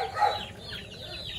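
Black meat chicken hens cluck briefly and fairly close, a short burst of clucking that quickly eases into softer background clucks.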